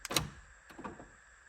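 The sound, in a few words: 2010 Honda Accord power door locks locking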